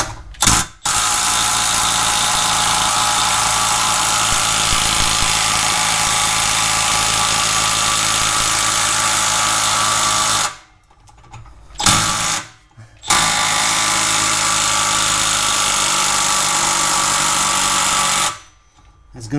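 A cordless power tool, likely an impact driver or ratchet, runs loud and continuous while a trailing arm bushing is worked on a Toyota Sienna, cutting out briefly three times before starting again.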